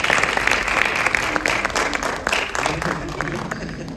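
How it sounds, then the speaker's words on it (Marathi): A crowd at a film trailer launch bursts into loud, sustained applause for actress Rajasi, many hands clapping densely and fading only slightly toward the end. "जोरदार टाळ्या राजसीचं."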